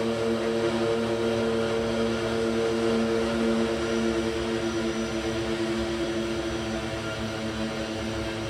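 A simulated Twin Otter twin-turboprop in the FSX flight simulator drones steadily in flight, an even, unbroken engine and propeller hum with tonal bands, moderately quiet and without speech.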